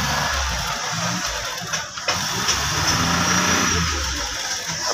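A Suzuki Mehran car engine with a carburetor runs steadily nearby, a constant rough mid-pitched drone with a faint whine and brief dips around the middle, no talking over it.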